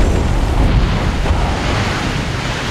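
Underwater mine counter-mining explosion set off by navy clearance divers, heard as a sustained deep, loud rumbling roar of churning water and surf with no distinct onset, filling the whole stretch.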